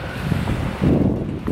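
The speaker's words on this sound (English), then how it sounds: "It's very windy, actually, excuse the wind, please." Wind buffeting a microphone outdoors beside a pool, a loud low rumbling gust that swells and surges near the end, with no talk.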